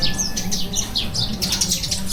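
Many birds chirp and tweet in quick, overlapping bursts, fairly close and continuous, with a low background hum beneath them.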